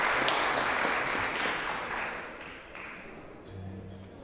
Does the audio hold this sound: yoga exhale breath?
no